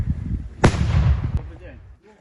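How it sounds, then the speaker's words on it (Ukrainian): Deminers' controlled detonation of explosive ordnance on site in liberated Donetsk region: a single sharp blast rips out, followed by a rumbling low tail that dies away over about a second. "даний вибухонебезпечний предмет було знищено на місці"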